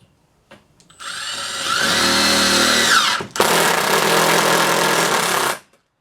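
A power drill drives regular deck screws into wood: the motor whines up and strains under load for about two seconds, stops briefly, then runs again loud and close for another two seconds before cutting off.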